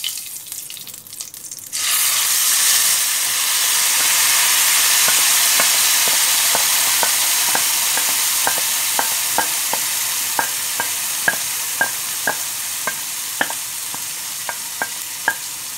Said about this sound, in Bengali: সেম তেলেতেই এই মাংসটা মাখিয়ে রেখেছি সেটা দিয়ে দিলাম